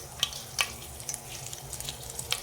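Whole spices such as cloves, cardamom and cinnamon fry in hot ghee in a pressure cooker, giving a soft steady sizzle with a few sharp crackles and pops, close and fairly quiet.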